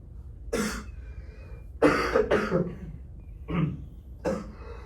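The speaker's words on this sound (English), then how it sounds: "If you cough like that, it projects." Several harsh coughs close up, in separate bursts of one or two, with short pauses between them.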